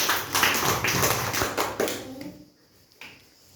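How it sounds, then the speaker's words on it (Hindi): Children in a classroom clap their hands in a loud, quick burst of claps that fades out halfway through, followed by quiet with one more soft tap near the end. "वेरी गुड, ताली बजाओ।"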